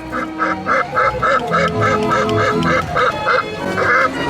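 The quacking golden goose coin machine at the Efteling theme park gives a loud, close run of a dozen evenly spaced quacks over a low background rumble.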